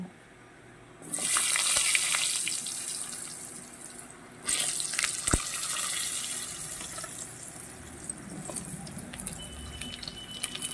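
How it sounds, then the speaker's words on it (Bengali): Potatoes drop into hot oil left over from frying fish and set off a loud, steady hiss of frying that surges again partway through, with a few light clinks; no speech. "ওই মাছ ভাজা তেলেই আমি আলুটা ভেজে নেব"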